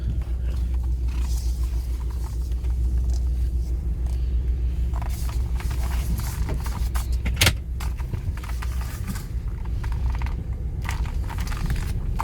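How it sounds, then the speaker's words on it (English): A 2007 Ford Explorer Sport Trac V8 4WD idles after a cold start, a steady low engine rumble close by, with faint jingling and one sharp click partway through. "This is a cold start. Starts right up. It's a V8."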